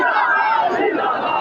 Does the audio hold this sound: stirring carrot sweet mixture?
no